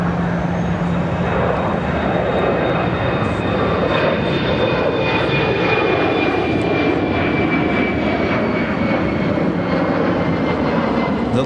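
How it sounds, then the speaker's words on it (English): A United Airlines Boeing 777 jet taking off from Chicago O'Hare toward Denver roars loudly and steadily, with thick low rumble and high whining engine tones sustained throughout. "that's a 777. United Airlines flight 1588 heading to Denver"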